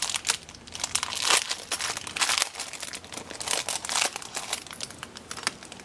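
Plastic packaging from a haul of craft stamps and small latches crinkles and crackles in close, irregular bursts at a soft level, with no voices.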